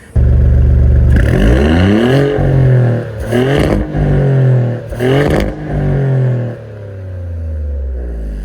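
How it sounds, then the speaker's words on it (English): A 2024 Maserati GranTurismo Trofeo's twin-turbo V6 revs hard three times in succession, rising and falling between pulls, then settles back to a low idle. "let's hear what that engine sounds like, what that soundtrack sounds like"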